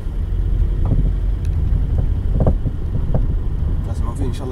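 Rattles and knocks come from the front and rear of a car, irregular clattering bursts over a steady low rumble, close to the microphone.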